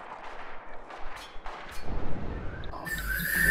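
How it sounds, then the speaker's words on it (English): Gunfire aimed at the player during a Spec Ops: The Line multiplayer match: scattered, fairly distant shots crack in irregular bursts, then a louder rushing blast near the end. No voices are heard. "Oh, I'm being shot at."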